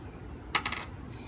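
Crunchy slime is pressed and pops with a quick burst of three or four sharp, close clicks, then goes quiet.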